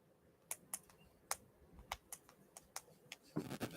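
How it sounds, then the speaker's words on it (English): Keys on a computer keyboard clack in an uneven run of quick, distinct taps, close and fairly quiet, ending in a short burst. "Let me type this real quick."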